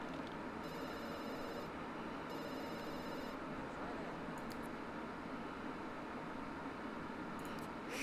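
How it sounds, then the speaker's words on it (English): Telephone ringing in The Sims 2, two evenly spaced bursts of a bright, trilling electronic bell over a steady background hum, fairly faint, with no talk over them. "Oh, the phone's ringing."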